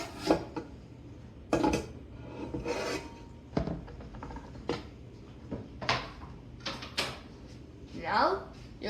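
Cut peppers are scraped and tipped into a big cooking pot, making a run of rasping scrapes and light clatters in uneven bursts while someone talks.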